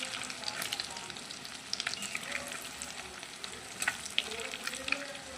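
An egg fries and puffs up in a pan with a soft, steady sizzle and crackle, close and fairly quiet, dotted with small pops and an occasional light stir.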